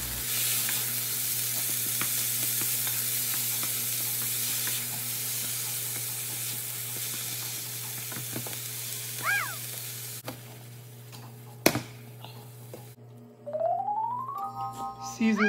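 Callaloo greens hit a hot pan and sizzle in a steady, bright hiss that fills the first ten seconds, then fades into quieter kitchen clatter with a few brief tonal chirps near the end.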